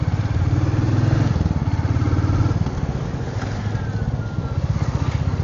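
A Royal Enfield motorcycle rolls along slowly, its engine putting out a steady, low, thumping rumble close by, with the throttle held even and no voices over it.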